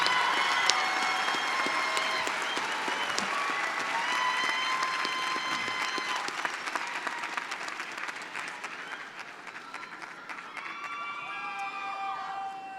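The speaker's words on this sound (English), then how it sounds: "Please give a round of applause to the master's and special degree graduates." Loud sustained applause fills a university commencement ceremony hall for master's and special degree graduates, dense clapping with some cheers, fading slightly toward the end.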